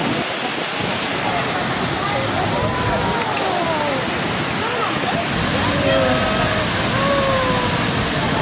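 A waterfall on Jeju Island pours in a constant, loud roaring rush of falling water, with people chatting faintly beneath it.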